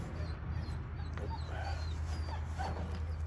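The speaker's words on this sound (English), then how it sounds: "That's our foster puppy from the rescue." A young foster puppy whimpers and gives small yips and barks nearby, high thin cries scattered over a low steady hum in a work area.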